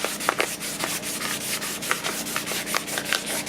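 An aluminum rapid pump jack part is rubbed with 600 grit sandpaper in quick repeated scratchy strokes, close and steady, with no voices.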